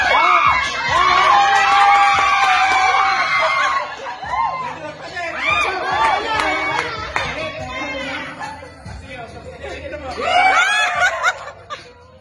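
Crowd of people shouting and cheering in bursts, with children yelling and laughter mixed in, loud and close, rising and falling over the span with brief lulls.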